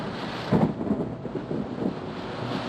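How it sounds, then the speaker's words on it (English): Low rumbling thunder from an approaching storm rolls in repeated swells, with wind buffeting and a steady outdoor wash beneath. "There's a storm coming in, Dr. Hoof."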